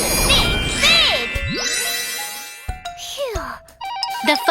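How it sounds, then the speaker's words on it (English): A telephone rings in a children's cartoon, a bright electronic jingle of repeated tinkling tones over lively cartoon music and sound effects, loud and close, with brief animated voices between the rings. "The phone is ringing."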